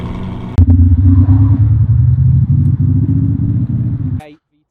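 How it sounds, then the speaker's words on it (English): A simulated Ferrari-style high-revving V12 exhaust sound from a Tesla's active sound system: a low, steady engine drone with a throaty exhaust tone, holding loud for a few seconds before cutting off abruptly. "You can have your classic Ferrari, the high revving V12."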